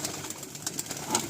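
Several pigeons coo softly among breeders' birds, a low murmuring chorus under steady background noise, brief and fairly faint with no speech.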